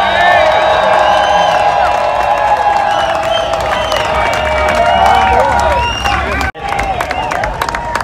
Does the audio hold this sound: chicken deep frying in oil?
no